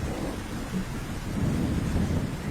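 Heavy rain pours down steadily with low rumbling thunder rolling underneath, a dense continuous wash of rainfall with no voices.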